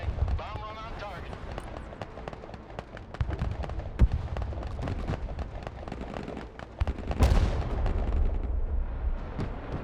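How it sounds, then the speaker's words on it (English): A bombing run in a war video game sets off dense, continuous rumbling explosions and crackling blasts, loud and sustained, with a voice talking over them. "Green light. Bomb run on target."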